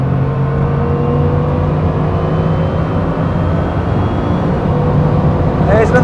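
A Bugatti Chiron Super Sport runs flat out on the Autobahn near 210 mph, its loud, steady engine drone and wind roar sustained throughout, with a rising whine near the end.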